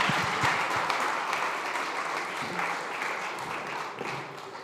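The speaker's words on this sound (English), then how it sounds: "Please give them a round of applause." An audience at a SXSW 2025 food and health panel applauds, a steady dense wash of clapping sustained at even loudness for several seconds.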